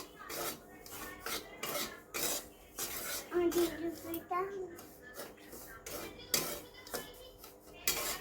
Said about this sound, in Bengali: 1 প্যাকেট সুজি 2 কাপই হয়েছে। এবার আমি ভেজে নেব।